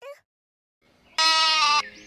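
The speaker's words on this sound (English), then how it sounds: "G for goat." A goat bleats once in a loud, sustained, wavering call lasting about half a second, preceded by a short faint sound and near-silence.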